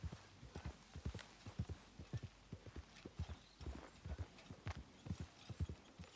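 Horse hooves clip-clop in a steady, fairly loud rhythm as a mount trots along in a video game, the evenly spaced hoof falls continuing throughout with no talk over them.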